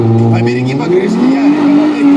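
Car revving hard at a stance festival, engine pitch rising and wavering loudly near at hand, with a crowd and announcer's voice over it.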